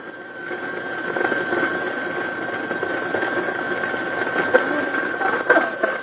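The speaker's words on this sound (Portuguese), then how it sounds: "Eu bato ele na velocidade máxima mesmo da batedeira." A stand mixer whipping chantilly cream at maximum speed, a steady whining motor hum with a constant high tone, moderately loud and continuous, with faint scraping and rattling from the bowl.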